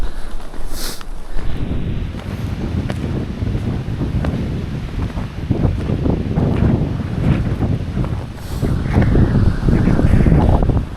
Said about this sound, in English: That winds are ripping.